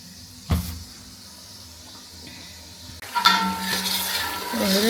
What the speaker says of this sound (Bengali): দেখুন মশলাটাকে সুন্দরভাবে কষিয়ে নিছি